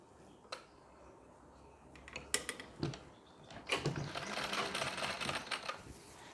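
A sewing machine stitches a fine seam along a saree pleat. It is quiet at first, with a few isolated ticks, then runs in rapid, close mechanical bursts through the second half.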